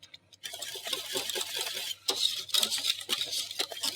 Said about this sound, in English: But you have to keep stirring, otherwise it's gonna burn